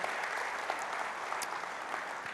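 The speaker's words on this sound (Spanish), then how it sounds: "¿Puede alguien dar un aplauso por la vida de este hombre?" Applause from a church congregation fills the whole stretch, a steady dense wash of many hands clapping at moderate distance with no voices over it.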